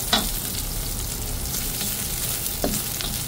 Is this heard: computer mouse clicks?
no